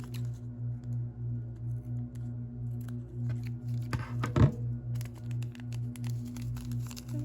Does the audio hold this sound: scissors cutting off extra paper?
yes